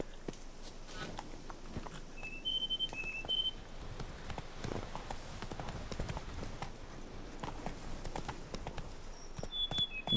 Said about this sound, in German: So, dann haben wir auch schon unser Pferd.